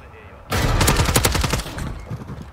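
Rapid automatic gunfire in the video game Modern Warfare 3, bursting in suddenly and loudly after a quiet start, then firing in a fast continuous stream that gradually trails off.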